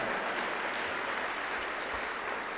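Audience applause at an award acceptance speech, a dense, even wash of clapping that holds steady throughout, no voices over it.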